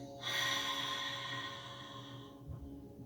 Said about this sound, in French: expire par ta bouche